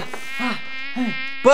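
A cartoon bee drones with a steady, close, continuous buzz. Its pitch swells and bends a few times, with a sharper rise at the end.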